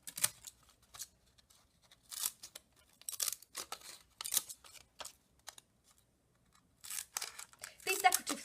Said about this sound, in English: A nice way to finish this off is with some decorative scissors.